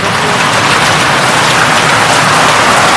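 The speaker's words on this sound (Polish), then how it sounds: "I znowu ulewa." Heavy summer downpour in a forest garden, with large raindrops pounding steadily and loudly on surfaces as a dense, unbroken roar with no voices.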